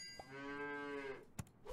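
A cow in the video game Super Auto Pets lets out one sustained, close moo, then a short click from the game follows.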